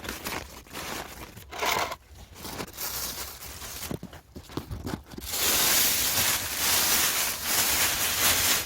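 Black plastic sheeting crinkles and rustles in irregular bursts while it is laid over seed potatoes in a home vegetable garden, close and fairly loud, with a steadier, denser crinkling stretch near the end.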